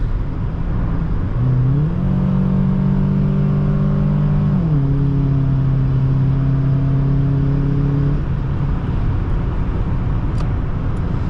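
A 1998 Toyota Camry LE accelerates up to speed, its engine note rising steadily through three gear shifts over a continuous road and cabin hum, with no talking.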